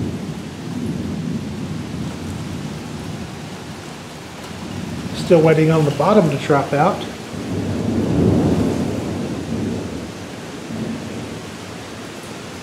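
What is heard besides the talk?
thunderstorm with thunder and rain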